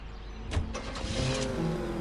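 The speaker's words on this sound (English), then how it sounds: "Oh, that's a hot rod! That's a hot rod!" Ford H-Boy hot rod engine in L.A. Noire, a steady mid-pitched car rumble with a brief revving burst near the start, then a sustained idle-like drone, with no talking.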